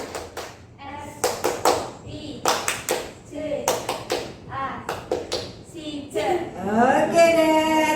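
A group of students performs the Tepuk Sija clapping chant at a school session, with sharp rhythmic bursts of hand claps alternating with chanted voices and ending in a rising, drawn-out voice.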